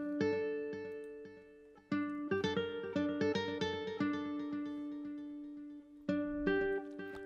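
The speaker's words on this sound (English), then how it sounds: "I like the nylon guitar" A solo nylon-string guitar part from an amapiano remix plays alone, with plucked melodic notes and sustained chords, a brief gap near two seconds and a fresh strum around six seconds, moderately loud and close.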